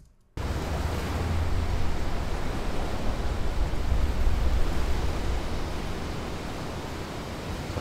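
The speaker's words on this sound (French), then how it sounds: "J'ai un effet de Shoreline." Shoreline waves wash steadily with wind, a dense broadband roar of surf that begins abruptly after a short silence and stays loud and even throughout.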